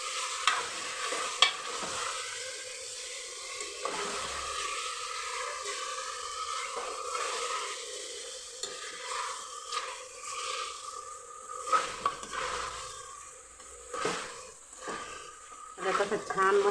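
Yogurt-marinated chicken for a village-style spicy Maharashtrian rassa sizzles and crackles in oil in a pan, stirred repeatedly with scraping spoon strokes, while someone talks over the frying.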